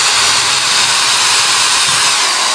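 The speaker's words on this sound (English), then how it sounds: "I'm going to pre-drill these two holes like this." A power drill bores two pilot screw holes while a self-closing magnalatch is fitted on a pool fence gate, giving a loud, steady high-pitched whine that runs unbroken and close, with no speech.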